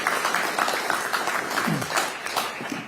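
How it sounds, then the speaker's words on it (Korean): An audience claps at a political party meeting in Gyeongnam, a brief, even burst of applause that stays fairly steady throughout. "박수 한번 보내주십시오."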